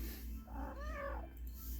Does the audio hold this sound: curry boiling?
no